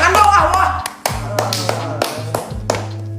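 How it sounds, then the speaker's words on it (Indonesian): Sharp, close hand claps come in a few separate bursts, each crisp and brief. Talk and low background music sit underneath them. "Wah, tepuk tangan dong"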